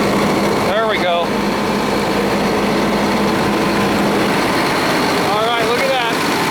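Caterpillar 3126 inline six-cylinder diesel in a Freightliner Thomas 44-passenger commercial bus running steadily and loud, with a constant rumbling drone throughout and brief squealing bursts near the start and end.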